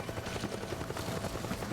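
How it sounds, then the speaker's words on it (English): A helicopter from the video game Metal Gear Solid 4 keeps up a continuous, loud rotor chop with a rapid, even pulse against a rumbling background, heard alone without speech. "That's a helicopter."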